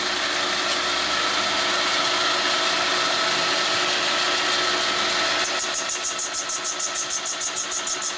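A boring machine cuts a Harley twin cam big bore motorcycle cylinder with a steady mechanical whir and grinding hiss, shifting partway through to a rapid, even pulsing chatter, close and continuous with no talking.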